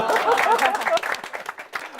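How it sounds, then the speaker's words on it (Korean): An audience claps for the coffee during a mentoring and leadership academy session, a short burst of applause that is loud at first, thins into scattered claps and fades within two seconds. "커피한테 박수 한번 쳐주시죠"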